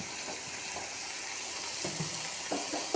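Jackfruit seed stir-fry sizzles in coconut oil while being stirred, giving a steady close hiss with faint scraping touches and no talking.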